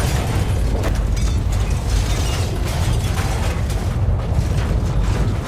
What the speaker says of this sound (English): another massive earthquake struck at the heart of the city where Dr. Liverpool's lab was.